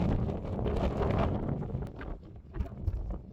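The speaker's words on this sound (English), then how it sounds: "It's really windy." Strong wind buffets the microphone at the Green River overlook in Canyonlands National Park, Utah, a continuous loud low rumble with gusty swells and no speech.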